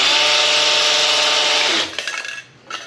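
A big power drill whirs loudly and steadily while priming oil pressure on a freshly built 383 stroker V8 in a bagged Squarebody truck, then winds down and stops near the end.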